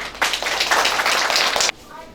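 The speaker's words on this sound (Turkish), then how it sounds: "muhteşemsin, alkışlıyorum seni." Short burst of close clapping and applause for a student at a school report-card day celebration, lasting about a second and a half before stopping abruptly.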